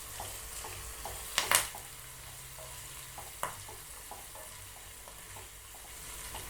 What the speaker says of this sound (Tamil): முந்திரி நல்லா பொரிஞ்சு பொன்னிறமாயிடுச்சு